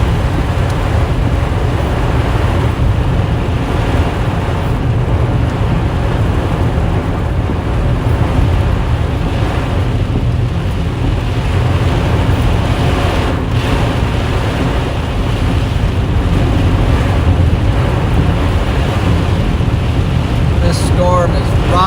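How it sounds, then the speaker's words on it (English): Storm wind buffets a car driving on gravel, a loud sustained roar of gusts and road rumble that swells and eases without pause. "Storm is rocking."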